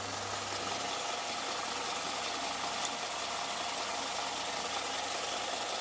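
A restored scrapyard belt sander runs steadily and smoothly, giving a constant motor hum with a low drone and a broad whir. There is no rattling and no talk.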